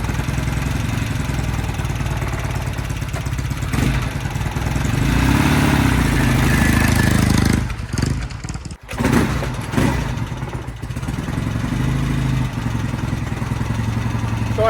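A Norton motorcycle engine runs steadily on a test ride, a continuous loud mid-pitched drone with a brief dip partway through before picking back up.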